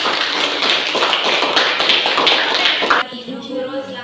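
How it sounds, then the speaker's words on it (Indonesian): Applause from a classroom group of students and teacher, a dense burst of many hands clapping for about three seconds before stopping abruptly, followed by quieter room sounds. "Oke, mari kita berikan aplaus."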